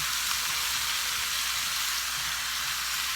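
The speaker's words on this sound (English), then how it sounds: "So I just love the sizzling sound." Steady, loud sizzling of chopped rustic potatoes frying in a hot pan, a continuous crackling hiss with no talking.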